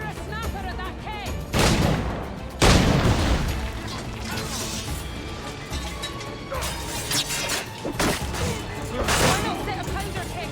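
In Assassin's Creed IV: Black Flag, shots are fired at a powder keg, bringing loud booms and crashing bursts amid ongoing battle noise, with voices talking throughout.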